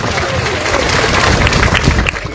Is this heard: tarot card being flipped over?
no